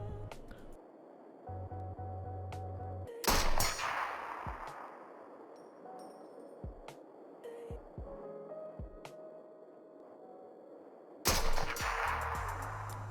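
Sniper gunshots at a shooting range in the video game Into The Radius, two loud sharp cracks spaced well apart, each ringing into a decaying echo, with quieter metallic clicks and handling sounds between them.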